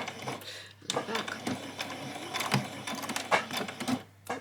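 A sewing machine stitches the hem of a child's dress, running in short, close mechanical bursts with pauses between. A voice talks over the stitching.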